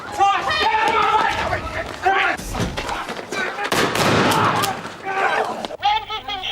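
Gunshots ring out during a bank raid in the TV drama The Bill, with sharp, loud bursts and chaotic noise amid shouting voices.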